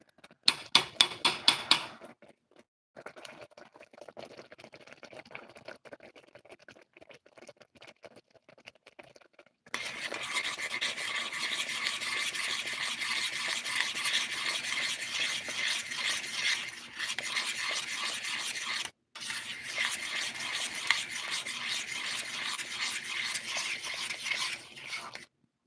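Rice being stirred in a pot, close, scraping and pattering clatter in short bursts, a pause, then a long steady stretch of continuous stirring broken by one brief gap.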